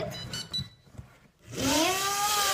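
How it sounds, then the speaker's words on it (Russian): A toy robot switched on with its remote gives a sustained electronic tone with rising, wavering pitch, following a few soft handling noises and a brief quiet pause. "Берем пульт, включаем от off к on. Он пикает."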